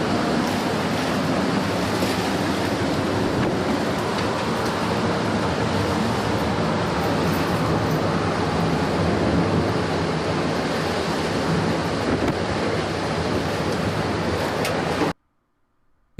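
Dangerous ocean waves crash onto beaches in a loud, continuous roar of surf mixed with wind noise. The sound holds steady for about fifteen seconds, then cuts off abruptly to near silence.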